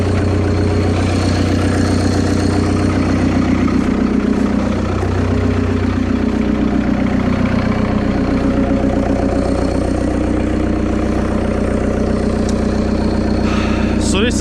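Excavator diesel engine ticking over at idle, a loud, steady, close rumble with even mechanical vibration throughout and a brief metallic rattle near the end.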